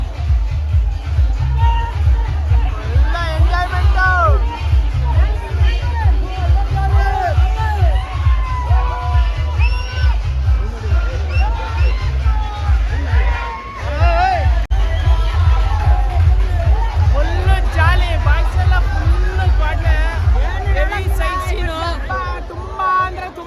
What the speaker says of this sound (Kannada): ಕ್ರೌಡ್ ಹೆಂಗಿದೆ ಕ್ರೌಡ್ ಹೆಂಗಿದೆ ಅಂತ ಎಂಜಾಯ್ ದುರ್ಗಿಗುಡಿ ಫುಲ್ ಹೌಸ್ಫುಲ್ ಆಗಿದೆ ನಡೆದಾಡಕ್ಕೂ ಜಾಗ ಇಲ್ಲ